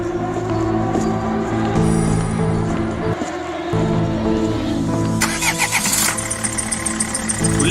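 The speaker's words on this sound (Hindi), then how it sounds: "गुल्ली गुल्ली गाड़ी में बैठकर शॉन के घर की तरफ निकल जाती हैं।" A car engine turns over and starts, then runs steadily and pulls away, a continuous mid-pitched engine sound with a brighter rise near the end, with no talk.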